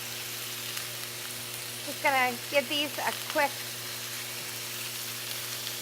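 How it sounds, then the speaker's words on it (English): Cubed boneless, skinless chicken breast sizzles in a hot pan with a steady, close frying hiss, while someone talks briefly over it in the middle. "sizzle in the pan"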